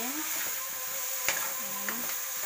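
Pork adobo with potatoes and string beans sizzles steadily in a pan while being stirred, with a soft clink of the utensil partway through under a constant frying hiss.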